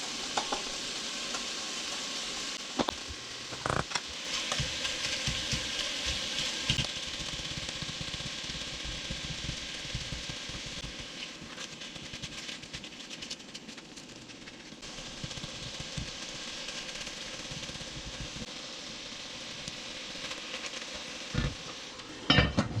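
Gnocchi frying in a pan alongside Italian sausage, with a steady broad sizzle throughout, occasional stirring scrapes and utensil clinks against the pan, and no talking.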